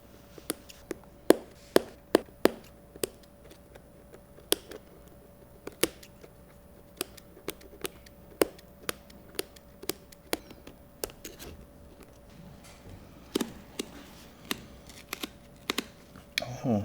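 Small scissors snipping the tight stitching on the swoosh of a Nike Air Jordan 1 sneaker: sharp, dry clicks and snips come in an irregular series, close and fairly quiet, with no voices.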